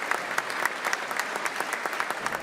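Dense, sustained clapping fills the House chambers as Governor Tim Walz enters for his State of the State address, a crowd applauding steadily with sharp individual claps throughout.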